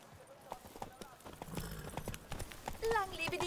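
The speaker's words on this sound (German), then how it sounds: "Das heißt, wir reiten jetzt mal links." Rhythmic horse hooves clip-clop steadily at moderate volume in The Witcher 3: Blood and Wine as a horse is ridden, with a voice talking over them and a brief whinny near the end.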